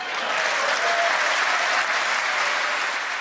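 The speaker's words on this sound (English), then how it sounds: "Republicans standing to applaud detention without trial." Sustained applause fills the chamber at the State of the Union as Republicans stand to clap, a dense, even roar of many hands held for several seconds without a break.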